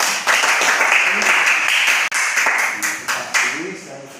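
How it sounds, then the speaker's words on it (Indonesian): Hands clap in a quick, loud burst, with several sharp claps standing out above a thicker patter and a brief dip midway before it tapers off. "Tepuk tangan."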